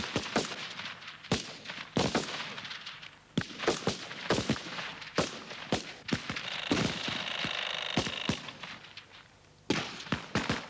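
Rifle shots ring out on a firing range in an irregular series of sharp cracks, some close together, with a steady background rumble between them.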